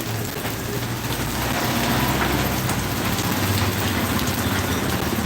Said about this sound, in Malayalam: ഒരു ഭീകരമായിട്ടുള്ളൊരു മഴയാണ് ഇവിടെ പെയ്യുന്നത്